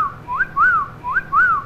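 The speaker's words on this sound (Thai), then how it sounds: "ผิวปากแซวในอุดมคติเลยอะ" A teasing wolf whistle, a rising then falling two-note whistle, is repeated twice, loud and close, with no talking over it.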